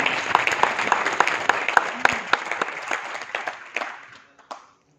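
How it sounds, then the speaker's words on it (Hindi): Participants at a leadership development training session in a New Delhi five-star hotel give hearty applause for two people, thick close clapping that gradually thins and fades out after about four seconds. "एक बार तालियां दोनों के लिए, तालियां जोरदार"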